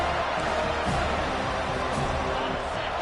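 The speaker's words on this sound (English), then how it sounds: "They've got him pinned back, and they're trying to rattle their eardrums. Listen to this crowd." A college football stadium crowd at a Florida versus FSU game roars in a dense, continuous wall of noise that holds steady and loud for the whole stretch, with no single voice standing out.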